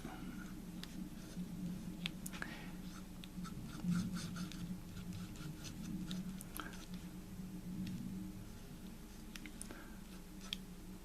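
A pen moves across paper in soft, close scratching strokes, forming cursive letters with short loops and pauses between marks, all quiet and steady.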